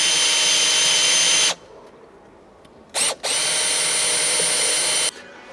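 A power drill bores into material for about a second and a half, stops, gives a short burst, then runs steadily again for two seconds before cutting off; loud and close with no talking.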